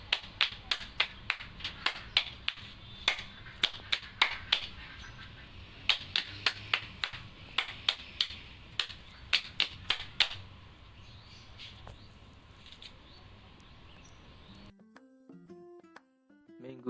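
A rhythmic hand-clapping game called tepuk break in a third-grade lesson: crisp claps in patterned groups, fairly close, then the clapping stops and soft music begins.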